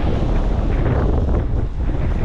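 Strong wild wind sweeps across Puka Beach, Boracay, buffeting the microphone in a loud, constant rumble over the faint wash of surf, and no one speaks.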